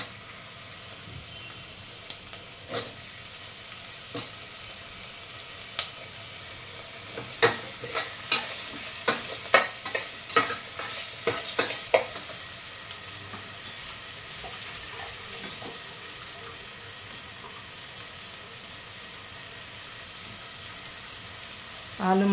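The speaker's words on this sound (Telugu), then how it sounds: "ఆలు మంచిగా ఫ్రై అవ్వాలి." Potatoes fry in a pan with curry leaves, stirred with a series of scraping clacks over a steady sizzle, the stirring busiest in the middle stretch before settling back to frying.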